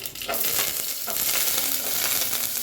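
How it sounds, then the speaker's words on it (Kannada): Onions frying in hot oil with mustard seeds and curry leaves for a bell pepper curry tempering, a loud, dense, continuous sizzle close up that barely changes throughout. "ನೋಡಿ ಈರುಳ್ಳಿ ಫ್ರೈ ಆಗಿದೆ"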